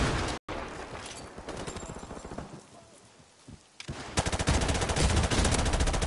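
Gunfire in the video game Modern Warfare Remastered, dense rapid automatic bursts with a brief cut, a quieter stretch, then a louder sustained volley.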